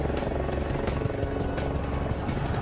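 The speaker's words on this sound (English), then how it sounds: "A helicopter doesn't fly. It beats the air into submission." A helicopter flies close by, its rotor blades beating out a fast, loud, steady chop over a constant engine roar.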